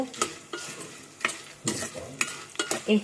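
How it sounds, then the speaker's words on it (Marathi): Roasted chana and peanuts are dry-roasted in a pan for poha, with quick rattling scrapes and clatters of the spatula and legumes against the metal, loud and close, in uneven bursts, with no talk. "लास्टाक हा पुटाणी मात्र भाजून घेऊया"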